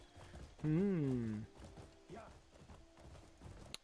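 A horse in the video game Crimson Desert gives a loud whinny, followed by hooves clip-clopping at a walk. A person's voice is heard under the hoofbeats.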